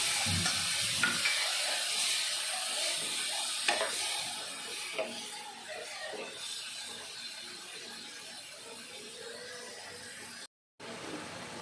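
Bitter gourd pachadi simmers in a pan after tamarind water and plain water go in, giving a steady soft bubbling sizzle with occasional spoon stirs and clinks, fairly close and continuous, with no talking.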